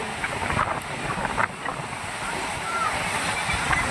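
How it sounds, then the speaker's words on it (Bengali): Sea waves wash in on a beach under heavy wind buffeting the microphone, a loud, rushing roar with people talking faintly in the background. "আর এই যে সমুদ্রের ঢেউ একদম মানে হাওয়া পাগল পাড়া হাওয়া"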